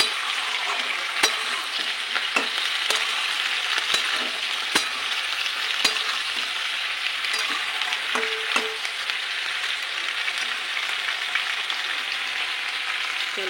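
Okra sizzles steadily in a pan with oil, a continuous close frying crackle broken by occasional sharp scrapes and clinks of a spatula, with no voices.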